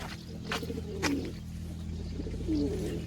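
A pigeon coos softly a couple of times during feeding outdoors, the low warbling calls sitting under a steady background hum along with faint rustles and taps from nearby.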